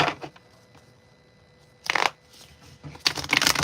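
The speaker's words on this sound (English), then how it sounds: "let me shuffle this deck right here" A deck of playing cards is shuffled indoors in a few quick riffling bursts separated by quiet pauses, close and fairly loud, with no talk.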